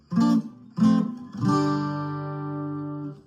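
Guitar chords in standard tuning: two quick, punchy strums followed by a longer chord left to ring out and fade, played alone and up close.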